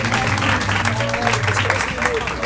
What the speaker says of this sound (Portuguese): uma salva de palmas pros meus amigos Patrick Maia e Rodrigo Marques